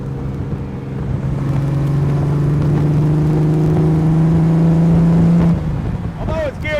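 Car pulling away and accelerating, a smooth rising whir with a steady tonal drone that builds through the middle, then eases off with faint squeaks at the end; no speech.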